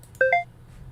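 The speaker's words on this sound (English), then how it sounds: "For the notification sound." A two-note electronic chime serves as a notification sound for a Discord server: two short, bright tones in quick succession, the second slightly higher, clear and close over a faint background hum.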